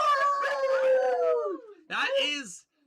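Drawn-out howl from JP, a gray-bearded dog, rising and sliding down over a second and a half, then a second shorter howl after a brief pause, close and fairly loud with no talking over it.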